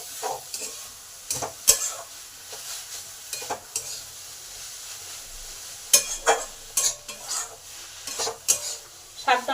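Cauliflower leaf greens stir-fried in a pan, with repeated scraping spatula strokes and metallic clinks over a faint sizzle, close up and uneven in rhythm.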